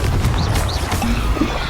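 Short, loud blast bursts from the Confringo explosive spell in Hogwarts Legacy, several sharp booms and crackles crowding together in under two seconds.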